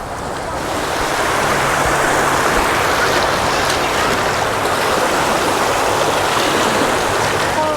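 Sea waves wash onto a crowded beach at Cala Millor on a hot day, a loud, unbroken roar of surf and wind with no clear voices.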